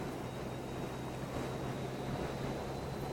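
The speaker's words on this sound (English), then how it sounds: "The wind blows it left and right." Steady, loud wind roars across the microphone on a windy motorbike ride with a passenger on the back, a constant broadband rush with low rumble and no speech.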